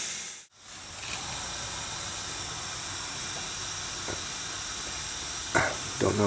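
Continuous loud hiss of air escaping from a pressure relief valve on a Vulcan tire machine, steady and close, with a brief dip near the start and a few faint clanks later.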